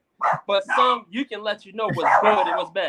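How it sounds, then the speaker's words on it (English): Small puppies barking and yipping indoors in short bursts mixed in with someone talking steadily over them. "My little puppies want to get involved."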